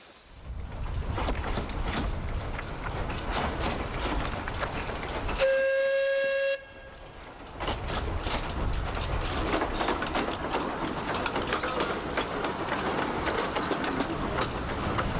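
A small wood-fired train chugs and rattles steadily, with a clear whistle blast about a third of the way through before the rumbling carries on.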